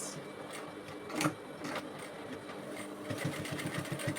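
A sewing machine stitches a reversible bonnet cap in quick rhythmic bursts of mechanical clatter, close and fairly quiet, with a slight pause before the stitching resumes.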